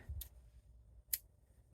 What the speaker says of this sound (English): So from here, I'm going to cut my yarn